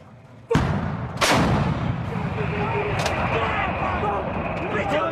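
Two booming blasts from M777 towed 155mm howitzers firing live rounds in a U.S. Marines exercise, the second heavier, each followed by a long rolling rumble that fills the outdoor space.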